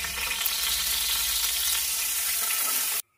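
Onions fry in hot oil in a pan for a sambar made with green gram, giving a steady, dense sizzle close up that holds evenly for about three seconds before cutting off abruptly.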